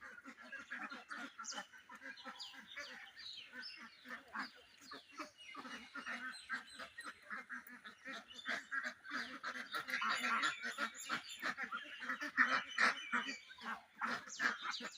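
A flock of kalaring ducks on a small duck and chicken farm keeps up a dense, continuous chorus of overlapping quacks and honks, steady and fairly close throughout.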